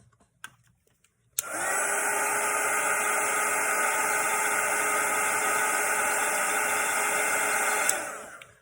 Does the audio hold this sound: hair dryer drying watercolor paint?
yes